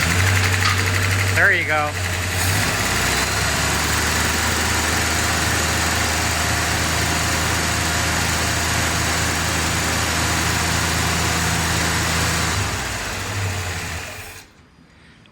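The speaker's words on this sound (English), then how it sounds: "I'm gonna flip on the ignition over here, fire it up." A 1966 Chevelle engine fitted with a swap-meet Holley carburetor cranks, fires and settles into a steady, loping idle, loud and close, before cutting off near the end; someone speaks briefly over it.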